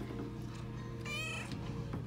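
A cat meows in a room, a short bright cry standing out over a steady low hum and background noise.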